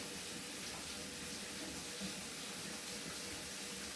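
Warm tap water runs steadily as a Norwex mop pad is rinsed under a faucet, a soft continuous hiss and splash at low level with no talking.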